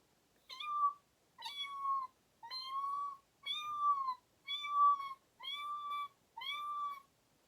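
A person imitates a forceful cat mew, slightly louder than an ordinary mew, repeating it seven times in an even rhythm with short pauses, each call a clear, close, drawn-out tone.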